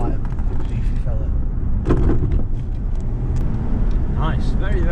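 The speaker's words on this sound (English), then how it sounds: "This is pretty much what old Rolls Royces should drive like." Rolls Royce Shadow Coupe on the move, a low steady engine and road rumble heard from inside the cabin, with small mechanical clicks and rattles and someone talking over it.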